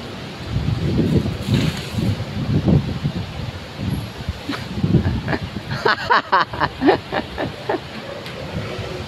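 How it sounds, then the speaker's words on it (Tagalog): Strong wind blows in the Philippines ahead of flooding from the mountains, buffeting the microphone with gusty low rumbles and rustling that rise and fall in uneven bursts. "Lakas ng hangin boy oh."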